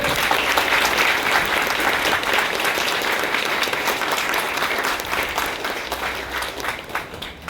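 Sustained, loud audience applause at a ceremony where women police constables are called forward, dense clapping steady throughout and easing slightly toward the end.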